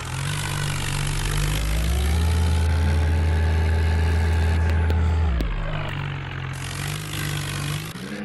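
A modified Mahindra tractor engine running hard close by, a loud steady drone that rises in pitch and holds under heavy load for several seconds, then drops back to a lower rumble, with no talking over it.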